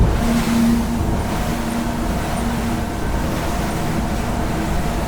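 A Hydrolift X-32S speedboat runs through waves, its engine a steady, loud drone under continuous hull slap and rushing water.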